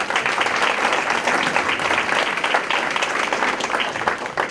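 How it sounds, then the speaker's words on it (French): Lively audience applause at a community recognition celebration, thick and continuous clapping with a faint murmur of voices beneath. "On peut les applaudir."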